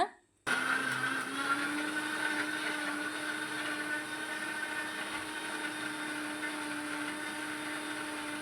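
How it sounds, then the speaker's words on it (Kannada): A mixer grinder blends carrots with water for juice, starting abruptly and settling into a loud, steady whirring drone that runs on alone without a pause. "ಸ್ವಲ್ಪ ನೀರು ಹಾಕಿ ನಾವು ಗ್ರೈಂಡ್ ಮಾಡ್ಕೊಳ್ಳೋಣ."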